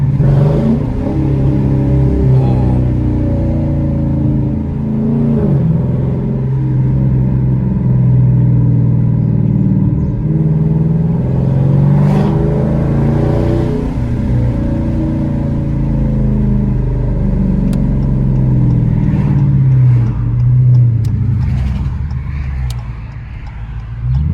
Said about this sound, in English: Step on the gas a little.